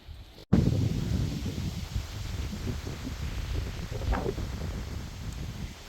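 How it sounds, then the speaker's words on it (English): Gusty wind sweeps across a big farm garden and buffets the microphone in a steady low roar, with a sharp knock at the start and no talk. "It's getting pretty windy and hard to film"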